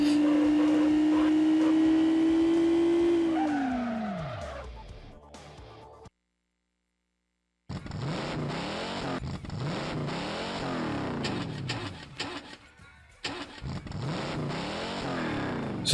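A tuned-up Dodge Viper races in Test Drive 6 on the Dreamcast. Its engine drones loudly, then drops in pitch and fades into silence, and returns as a series of rising and falling revs through gear changes.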